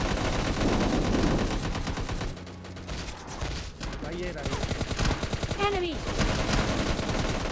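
A teammate's sustained gunfire in the mobile shooter PUBG Mobile Lite, loud rapid bursts filling the clip, with a brief spoken callout from a player.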